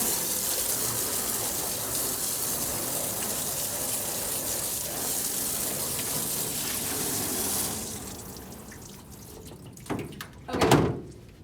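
A bathtub faucet gushes steadily and close by for about seven seconds while a small mammal cage is rinsed, then the flow cuts off and a couple of hollow clunks follow, with no talking.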